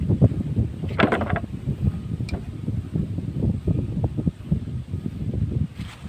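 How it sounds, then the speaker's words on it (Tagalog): A small boat moves across water amid wind noise and gentle splashing, with a faint rustle in the background. "Ayan, sasakay kami sa bangka"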